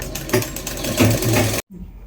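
Sewing machine stitching a chooridar seam at a 1.5 inch margin, a fast close mechanical chatter that stops abruptly near the end, followed by a faint quiet tail.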